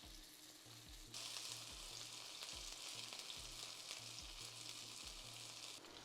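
Sweetcorn and halloumi fritters frying in a pan, a loud continuous hiss and sizzle of oil that swells after a quieter start, with a low hum underneath and no voices.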